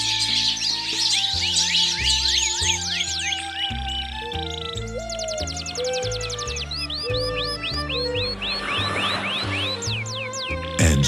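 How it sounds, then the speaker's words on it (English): Birds chirp and sing in quick repeated trills and whistles over a steady background of low tonal music, the calls fairly clear and continuous throughout. "let birds wing their way above the earth"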